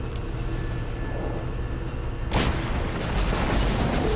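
A Dimensional Rift's secondary explosion in the XCOM video game on Xbox One, a sudden loud boom that hits midway through and then rolls on as a broad rumble over steady game background noise.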